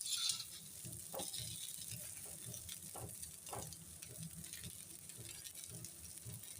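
Corn cutlets shallow-frying in a pan, a soft, steady sizzle broken by occasional scraping taps from a utensil, close and fairly quiet with no talk.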